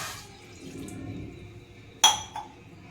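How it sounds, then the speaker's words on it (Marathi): A glass of water goes into a hot kadhai with a brief splashing rush, a low steady wash, then a sudden bright splash and clink near the end, heard up close. "आता आपल्याला एक ग्लास पाणी टाकायचं आहे"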